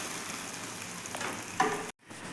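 An omelette fries in oil in a pan, giving a soft continuous sizzle with a brief louder burst before the sound cuts out abruptly near the end.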